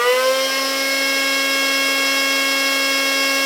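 A Tekin G3 brushless RC motor spinning at high speed on a test bench, a loud steady whine with clear harmonic tones that settle as it reaches full RPM and holds for several seconds.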